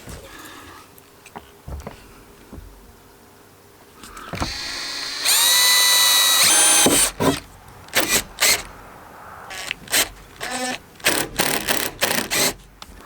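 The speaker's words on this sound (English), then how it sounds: "you can pull it down for a second while I drill this pilot hole" A power drill drilling a pilot hole whines loudly for a couple of seconds, then stops and starts in several short bursts with clicks and handling noise around it.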